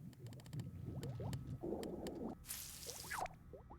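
A bubbly underwater ambience from Little Big Planet 2 plays quietly, full of gurgling pops, rising bloops and a brief fizzing rush, bubbling continuously with no voices.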